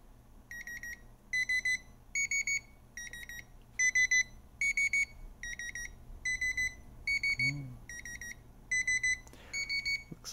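A Dish Hopper 3 remote control locator gives a steady series of short, shrill electronic beeps in evenly spaced pairs for about ten seconds, clear and close in a quiet room.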